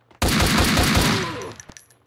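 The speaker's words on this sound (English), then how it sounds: "I can still hear gunshots" Rapid gunfire from the video game Max Payne 2, a dense loud burst of overlapping shots lasting about a second, followed by a few scattered single cracks and echoes.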